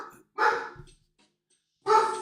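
Dogs indoors barking at a voice heard upstairs, two loud close barks separated by a pause of silence, with a brief softer sound between them.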